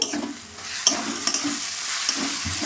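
Turmeric and chili powders, including Kashmiri chili, stirred into hot oil in a frying pan for an egg curry, giving steady sizzling with scraping spatula strokes and sharp clinks against the pan.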